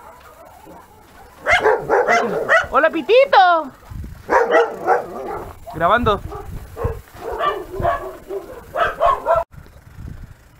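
A dog barks in short bursts with yips close to the microphone, mixed with people talking and chatter, on an urban downhill biking outing.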